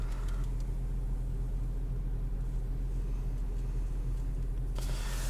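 Inside a 2022 Audi SQ5 Sportback Premium Plus with a 3-liter V6 on the move, a steady low engine and road rumble drones beneath faint cabin noise, with no one speaking.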